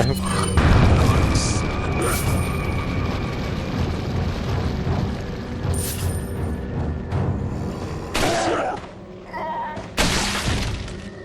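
Loud booming blasts and shattering debris in Resident Evil 4, several explosions in succession over a dense, noisy mix with a voice talking over it.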